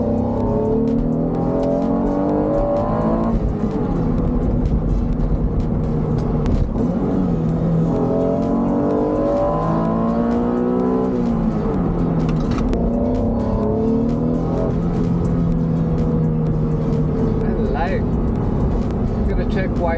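A 1997 Acura NSX's V6 revs up and down repeatedly from inside the car, its engine note swelling and falling through several pulls with muffled voices over it.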